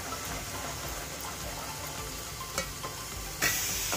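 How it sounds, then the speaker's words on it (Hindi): Ground masala spice paste frying in oil with ginger and garlic for aloo gosht salan, a steady soft sizzle with a few sharper pops and stirring scrapes, no talking. "ये तेल छूटने तक हम मसाले को अच्छा सा भून लेंगे।"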